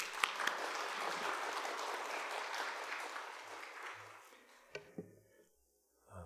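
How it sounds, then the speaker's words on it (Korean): Audience applause at a university staff worship service greeting an arriving university president, a sustained burst of clapping that fades out after about four seconds, followed by a few isolated thumps and near silence. "김원용 총장님 나오실 때 박수로 환영하면서"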